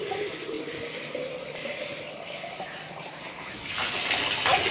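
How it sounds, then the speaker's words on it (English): Water running and splashing during a bath for a Doberman puppy, a steady faucet-like pour that grows louder and gushier toward the end, with no talking. "I'm putting water on here."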